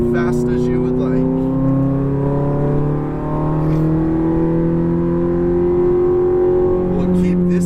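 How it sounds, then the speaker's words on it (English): A Ferrari F430 accelerates on a race track, its engine a loud, steady tone that climbs in pitch through the gears, with an instructor's voice heard over it. "Go ahead and start accelerating at your apex."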